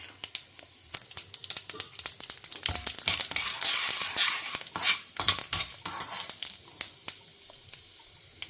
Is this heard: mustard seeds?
yes